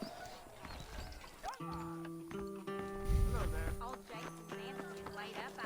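Hoof clip-clop from a wandering horse in Red Dead Redemption, soft irregular steps with a brief whinny, mixed under game music and ambience.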